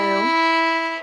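A single sustained bowed violin note with rich harmonics, held steadily and loud for about a second, with a slight swell at the start.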